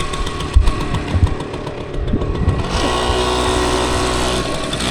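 A Mahindra Arjun Novo 605 DI tractor engine runs close by, a continuous droning rumble with a few knocks early on, settling into a steady loud hum that holds through the end without any speech.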